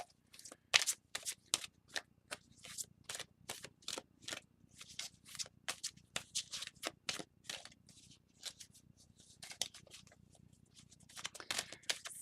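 Close, crisp riffling and slapping of tarot cards being shuffled over and over in quick bursts, with brief pauses between rounds.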